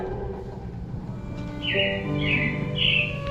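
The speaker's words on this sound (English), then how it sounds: "it looks like the Robins are getting ready to celebrate Valentine's Day today" Robins give three bright chirping bursts in quick succession, fairly near, over a steady background hum and faint music.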